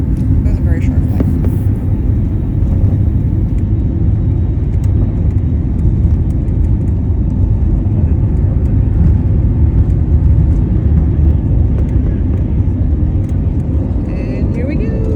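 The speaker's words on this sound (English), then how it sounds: "This is our flight from London to Amsterdam as we're taking off." A passenger airplane taking off on a flight from London to Amsterdam, heard from the cabin as a loud, steady engine roar and rumble that holds throughout, with faint voices in the background.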